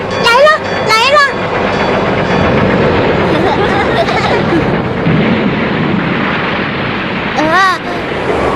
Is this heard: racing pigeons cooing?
no